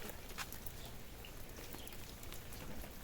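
Steady rain falls over a garden with lilies and netting sagging under water, a dense even patter filling the whole stretch, with faint bird calls in the background.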